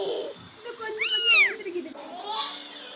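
A small kitten gives a single clear, high rising-and-falling meow up close, with fainter mewing sounds around it and soft human murmurs in the background.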